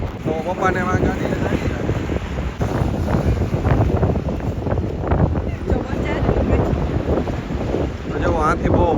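Strong wind blasting across the microphone on a boat ride on the water, a loud constant buffeting roar, with people talking over it.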